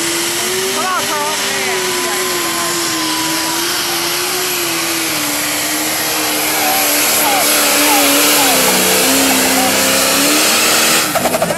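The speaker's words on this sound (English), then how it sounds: "This is one of the weirdest sounding tractors." A Pro Stock class pulling tractor roars at full throttle at a 2010 Lorain County NTPA truck and tractor pull, its loud engine drone holding steady then climbing toward the finish with a warbling tone, an announcer talking over it.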